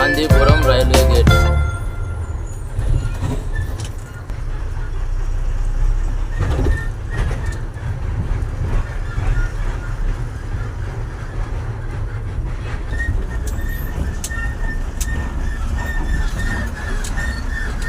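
A train rumbles past a railway level-crossing gate, a deep, continuous roar with faint rail clatter and squeal layered on top, heard close and loud throughout.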